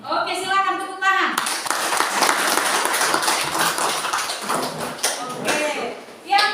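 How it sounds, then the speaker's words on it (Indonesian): A classroom of students claps together after a group presentation, a dense, sustained round of applause with voices chattering underneath and brief talk at the start. "Oke, silakan tepuk tangan."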